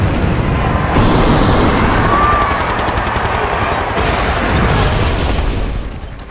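Gas tanks exploding in an arson fire in a stereo radio play, a dense, continuous barrage of loud booms and crackling bursts over a roaring rumble, close and without talk.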